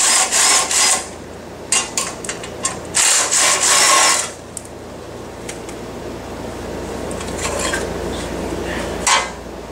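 A screwdriver scrapes and turns on a bolt of a Baja Warrior torque converter and gear reduction system, with bursts of metallic rasping and clinking in the first four seconds, then quieter intermittent scraping and a final brief clatter.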